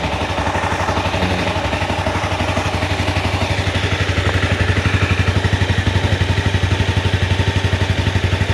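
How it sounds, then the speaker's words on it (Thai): A 2017 Honda CBR300 ABS with its original engine and stock exhaust idles close by, a steady, even, rapid pulsing thrum that holds constant throughout with no voices. "เสียงท่อรถตอนเดินเบาเขาก็จะประมาณนี้นะครับ"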